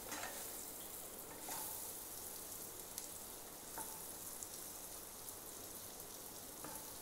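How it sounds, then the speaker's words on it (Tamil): Paneer in masala sizzles and fries in a pan while being stirred, a steady crackling hiss broken by occasional sharp clicks of the spoon, heard close and alone. "அந்த மசாலா ஃபுல்லாக ஃபுல்லாக படுற மாதிரி நல்லா கிளறி விட்டுக்கோங்க"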